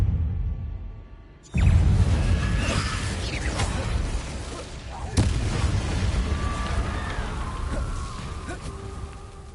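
An Incendio fire spell cast in Hogwarts Legacy on PS5 bursts in suddenly after quiet with a loud whooshing rush, followed by a sustained roaring flame and a second punchy burst partway through.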